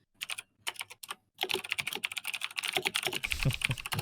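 Rapid clicking keystrokes on a mechanical keyboard, starting with a few separate taps and then breaking into fast, continuous typing close to the microphone.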